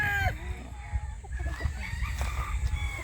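A Sunny Lagoon Gray broodcock rooster crows once at the start, then soft clucks and farmyard shuffling follow, fairly close, on a hillside chicken farm.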